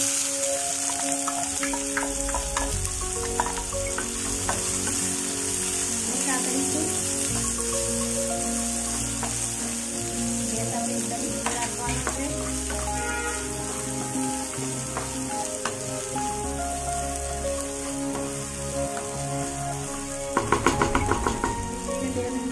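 Onion sautéing in hot oil for upma gives a steady, close sizzle throughout, with a soft burst of louder crackling near the end, all beneath a melodic background.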